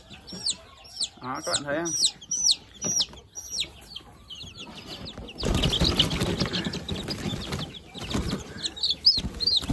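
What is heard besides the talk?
junglefowl chickens clucking and flapping while handled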